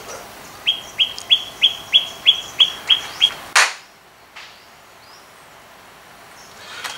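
A common myna calls outdoors in Thailand, about nine quick, evenly spaced whistled notes that end abruptly, followed by near silence with a couple of faint thumps.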